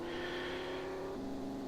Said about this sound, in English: Jag, which is the only engine sound you hear